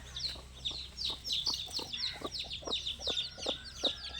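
A hen clucks softly while her chicks peep over and over in a steady, high-pitched chorus close by.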